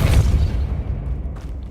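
A Depulso spell is cast in Hogwarts Legacy, giving a single deep, muffled boom that thumps loudly at first and then fades over about a second, with a faint airy tail and no talk.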